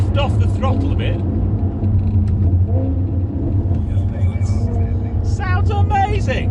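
Ferrari V8 engine in a Maserati rumbles loudly as the driver eases off the throttle, a deep steady drone with pitch shifts, while people talk over it.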